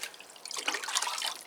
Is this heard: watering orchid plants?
yes